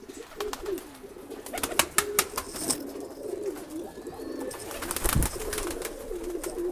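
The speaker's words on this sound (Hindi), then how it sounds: "तो ये टोक वाले जालदार कबूतर" Crested jaldar pigeons, male and female, coo with soft low repeated calls among a pen of sale birds, with scattered sharp clicks and flutters nearby and no talking.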